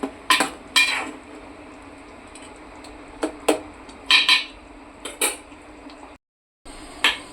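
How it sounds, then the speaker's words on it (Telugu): Fish curry with tamarind being mixed in a large vessel, a series of scattered metallic clinks and scrapes from a spoon against the pot, close and fairly loud with brief pauses. "అందుకనే ఇలా పెద్ద సైజు గిన్నెలో పెట్టుకుని వేసుకుంటున్నాను కూరని"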